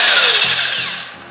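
A power tool removing bolts while a 350Z is prepped for drifting: a loud, close, steady whine that fades toward the end, with no voices.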